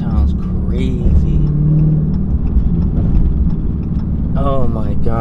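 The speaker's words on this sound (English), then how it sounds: "It sounds like what happened last time when the torque converter went out." Dodge Hellcat with a failing transmission, suspected torque converter trouble, giving a loud, continuous low engine drone with a strained mechanical whine, close up, while people talk over it.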